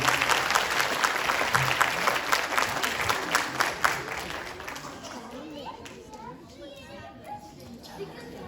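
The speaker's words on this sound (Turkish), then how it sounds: "öğrencilerimizi kuvvetli alkışlarınızla sahneye davet ediyorum" Strong applause from an audience at a children's Quran course graduation ceremony for 4–6 year olds, dense clapping through the first half then thinning out, with children's voices and chatter mixed in.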